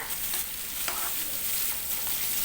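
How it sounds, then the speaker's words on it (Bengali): Pieces of jackfruit and potato frying with turmeric in oil, a continuous close hiss of sizzling with a faint stirring scrape partway through, no voices. "এঁচোড় আর আলুগুলোকে ভালো করে একটু ভেজে নিয়েছি"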